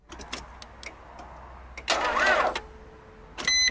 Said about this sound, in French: comme vous l'entendez, le moteur ne tourne pas du tout